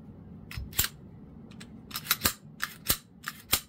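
A Springfield Echelon pistol being handled, with sharp metallic clicks and clacks from the slide locking back and the parts being worked, spread in short bursts across a few seconds at close range.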